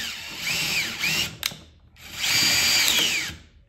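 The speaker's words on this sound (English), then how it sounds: "what I'm gonna do is I'm gonna attach my drill" A handheld power drill attached to a clamped-down cabinet door for fitting Blum CLIP-top soft-close hinges whirs in two close bursts, with a short click between them and no talking.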